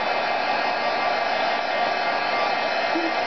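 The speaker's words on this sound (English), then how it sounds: "So zap it with a little heat here." A heat tool blows steadily while drying ink on a stamped mixed-media greeting card, a continuous loud whirring hiss with no breaks.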